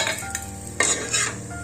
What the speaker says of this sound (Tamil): இப்போ தாளிக்க வேண்டிய பொருள் எல்லாம் போட்டுடலாம்.